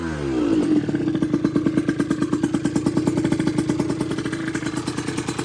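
A Derbi motorcycle fitted with an 80cc kit and a BRK exhaust catches on its very first start, then settles into a steady, rapid idle putter that stays loud and close throughout.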